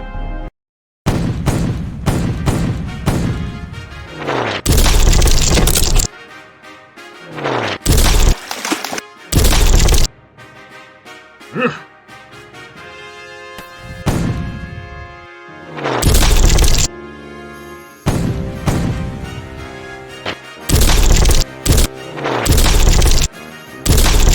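Cannon fire in a Lego pirate brickfilm comes as repeated loud booms and crashing blasts separated by short gaps, mixed with dramatic orchestral music and brief pauses of near silence.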